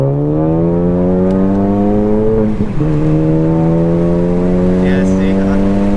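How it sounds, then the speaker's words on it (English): A Ford Focus ST on its stock turbo accelerates hard from inside the cabin, engine note climbing steadily with a brief dip around a gear change before pulling again, loud and continuous. "Stock turbo, it punches, but like that top end power is not there compared to big turbo."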